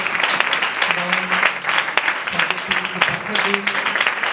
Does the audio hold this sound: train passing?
no